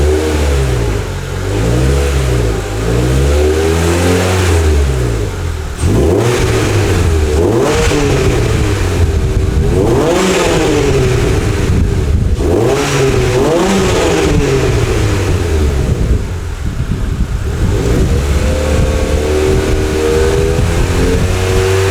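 A car with an aftermarket catback exhaust but stock headers and catalytic converter, revved repeatedly: loud, close engine sweeps rising and falling in pitch over about twenty seconds, with no talk.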